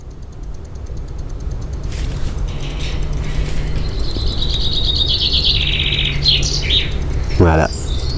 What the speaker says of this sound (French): On écoute les petits oiseaux ?